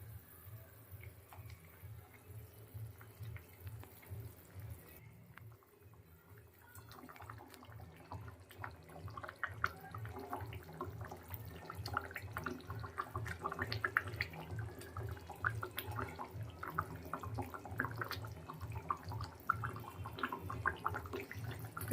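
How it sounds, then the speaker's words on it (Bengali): Gravy for tilapia tel jhal bubbling in a pan, a dense, busy crackle of popping bubbles that grows livelier and louder over time above a faint low hum, with no talking. "তেলাপিয়া মাছের তেল ঝালের জন্য যে গ্রেভিটা আমি তৈরি করে নিলাম, ওটা ফুটে গেছে"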